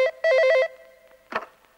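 An office telephone rings loudly with a short, warbling electronic trill burst, then falls quiet before a brief clatter or voice fragment.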